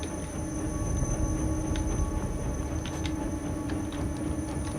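A train in the video game Inside rumbles in a steady, dense mechanical roar with faint clicks and high whines, sustained and fairly loud, with no talking.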